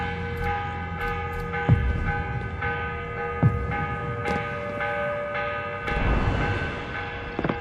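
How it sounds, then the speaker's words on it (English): In the Assassin's Creed Revelations video game, a morning bell rings with repeated metallic strikes about every couple of seconds over a constant droning hum, and a wash of noise swells toward the end. "The morning bell."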